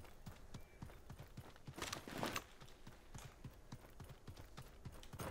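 Horse hooves clip-clop in the video game Realm Royale, a steady, even trot of crisp, close hoofbeats repeating throughout over faint game ambience.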